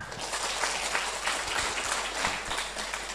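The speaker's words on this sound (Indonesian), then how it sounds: "Sekali lagi kita berikan tepuk tangan dong yang meriah" Lively audience applause at a televised COVID-19 health talk show in Medan, a dense, even wash of many hands clapping that carries on steadily for the full stretch without speech.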